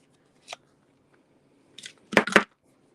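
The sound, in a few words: cutting paper with scissors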